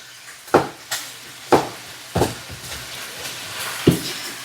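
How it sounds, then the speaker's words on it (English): Meat fries in a pot with a soft steady sizzle, broken by several sharp clanks of stirring spaced about a second apart, with no voices. "My meat is still frying."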